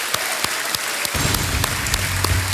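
Studio audience applause welcoming contestants on the KBC quiz show, a steady broadband clatter of many hands, with a low musical swell entering midway under the clapping.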